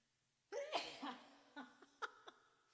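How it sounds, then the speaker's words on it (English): One sudden, sharp human sneeze close to the microphone, followed by a few short breathy laughs and little vocal sounds in a quiet home room. "I sneezed on camera"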